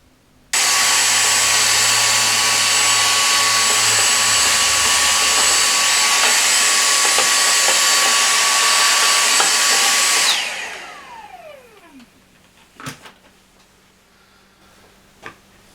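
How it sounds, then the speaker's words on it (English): A vacuum cleaner runs loud and steady for about ten seconds while sweeping out a Marshall AVT50H amplifier, then its motor winds down and a few faint clicks follow. "I'll get the vacuum out, we'll give this a little sweep out."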